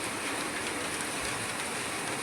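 Heavy downpour hammering steadily on surfaces all around, a dense, constant hiss and patter with no break and no voices.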